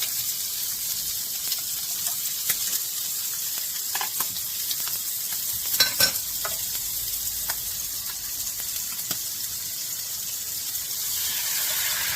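Banh xeo batter frying in a very hot pan, a steady sizzle and hiss running the whole time with a few sharper crackles and pops near the middle, close by and with no talking.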